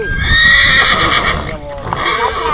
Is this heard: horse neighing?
yes